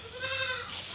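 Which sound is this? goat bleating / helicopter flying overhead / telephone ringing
goat bleating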